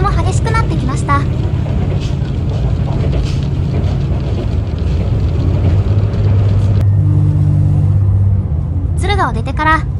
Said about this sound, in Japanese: 車体に雨が当たる音が車内に行っても聞こえてきます